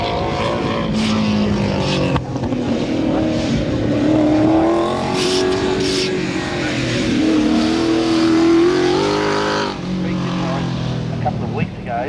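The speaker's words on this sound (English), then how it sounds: "Alan Peat on the track now in the Mustang is third in class." Ford Mustang race car climbing the Collingrove hillclimb track at the 1994 Australian Hillclimb Championships, its engine revving and rising through gears at a distance, with a commentator talking continuously over it.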